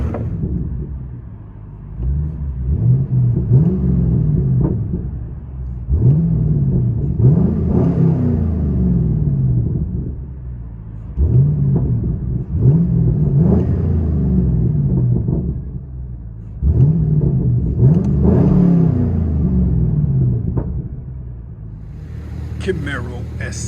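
Straight-piped 2015 Chevy Camaro SS with a 6.2L V8, X-pipe and 4.5-inch tips, heard from inside the cabin as a deep, loud rumble swelling in four repeated rev cycles, with talk over it.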